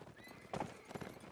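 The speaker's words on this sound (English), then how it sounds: "He's in a well-armored horse, but he's being chased down by Walfram Beaumont" An armored warhorse gallops and neighs in the Mount and Blade battle game, a medieval battle of Bouvines: a hoof-beat clatter runs underneath with a louder whinny bursting out midway, followed by another surge, all fairly faint and without speech.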